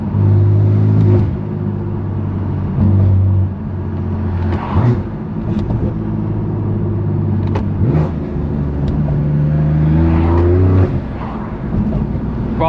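A BMW F80 M3 Competition with a straight-pipe exhaust revs hard while driving through city streets, its loud, deep engine note rising and falling in repeated surges and echoing off nearby walls.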